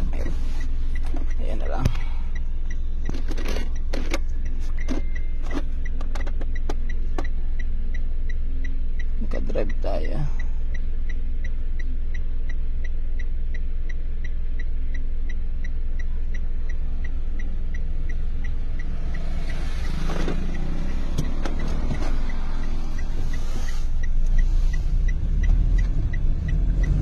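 Toyota Wigo hatchback with a rebuilt transmission driving on a road test, a steady low road and engine rumble running throughout with a few clicks and knocks from the cabin, no talk over it.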